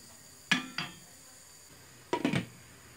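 A kitchen knife chops onions and carrots on a cutting board while cooking Uzbek pilaf, with a couple of sharp, quiet strikes followed by a short cluster of quicker chops.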